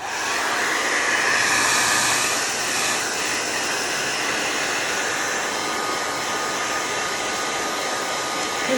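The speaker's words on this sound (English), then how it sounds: "I'm gonna dry it quickly with my hair dryer" A hair dryer blows continuously at close range to dry milk paint, giving a loud, steady whooshing roar with no pauses.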